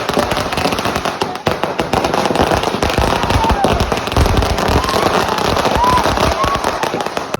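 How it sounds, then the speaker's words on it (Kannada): Firecrackers set off to celebrate India's cricket win over Pakistan make a dense, continuous barrage of loud crackling and popping. The sharp bursts overlap without pause and come close and intense throughout. "ಪಾಕಿಸ್ತಾನ ವಿರುದ್ಧ ಇಂಡಿಯಾ ಗೆದ್ದದಂತ ತಿಂಡಿಲೆ ಪಟಾಕಿ ಹಚ್ಚಿದಾರ"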